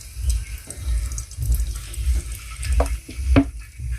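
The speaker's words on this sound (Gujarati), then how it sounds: "તો મિત્રો ગેસ હરકી ગયો છે અને મારી મમ્મી રેડશે હવે તેલ" Cooking oil is poured into a pan on a lit gas stove while whole green chilli curry is being made at home, with a soft, uneven trickle over a low steady rumble and a few light clinks near the end.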